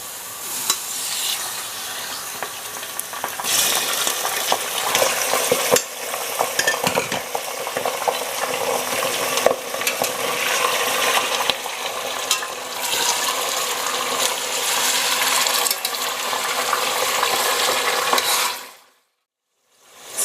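Lamb meat frying in a pan with cloves and black peppercorns, a steady loud sizzle with stirring and utensil scraping throughout before falling silent.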